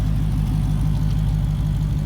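A 2018 Dodge Challenger Hellcat's 6.2-litre supercharged 707 hp engine idles loudly and steadily up close, a deep low rumble with an even pulsing rhythm and no revving.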